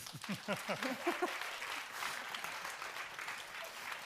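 Audience applause at an early-intervention conference in Sweden, a dense spread of clapping that opens with some louder hand claps and then settles into a steady, moderately loud patter for the rest of the clip.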